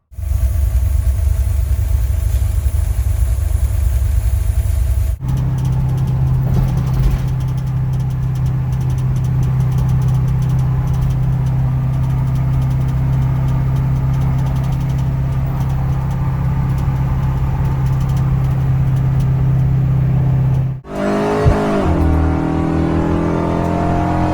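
Car engine fitted with an Edelbrock Pro-Flo 4 EFI system, running loud and steady at a low rumbling idle, then briefly cutting out before a quick rev and settling back, with no talking.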